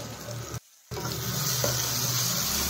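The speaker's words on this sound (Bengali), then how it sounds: "তো সেই জন্য আবার একটু আলু ভেজে দিচ্ছি" Continuous close sizzle of potatoes frying in a pan, briefly cut off for a moment before resuming steadily.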